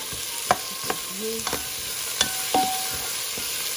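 Beef soup ingredients with medium tomato are stirred in a pot, giving a steady bubbling sizzle with sharp utensil clinks and scrapes against the pot at irregular intervals.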